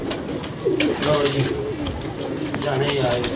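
Pigeons coo softly and repeatedly at close range while people talk in the background.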